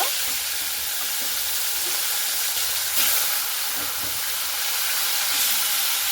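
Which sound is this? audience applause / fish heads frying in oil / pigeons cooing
fish heads frying in oil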